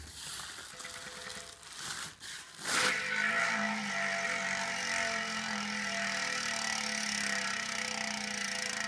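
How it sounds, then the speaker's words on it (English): Chris King bicycle hubs on ENVE 4.5 SES carbon wheels, spun up after a few brief clicks and then ticking steadily and quietly as the wheel freewheels on. "The Chris King hubs, well, let's give them a spin up"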